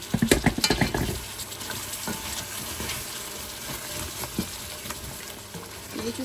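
A wooden spoon stirs food in a pan with a loud scraping flurry at first, then settles into a continuous soft sizzle broken by scattered scrapes and taps.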